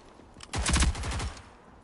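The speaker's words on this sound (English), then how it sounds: "Where the hell is that guy getting shot from?" Rapid bursts of automatic gunfire in a first-person shooter match with an elimination objective, a loud burst of shots lasting under a second with a brief trailing tail, no talk over it.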